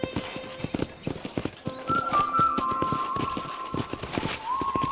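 Steady clip-clop of horse hooves walking at an unhurried pace in the video game Red Dead Redemption, with a brief whinny-like tone and soft game-style background sounds.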